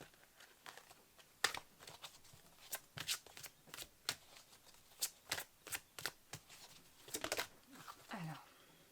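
Moon oracle cards are shuffled up close, giving irregular bursts of papery riffling and slapping with brief pauses between them, and a faint voice is heard near the end.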